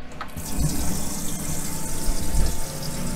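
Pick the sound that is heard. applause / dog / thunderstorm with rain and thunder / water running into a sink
water running into a sink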